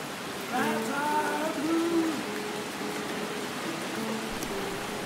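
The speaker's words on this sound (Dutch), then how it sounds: "want buiten is het aan het gieten" Heavy rain pours steadily outside an abandoned house in Rodney, Mississippi, heard from its porch as a constant loud hiss, with a brief voice-like murmur early on.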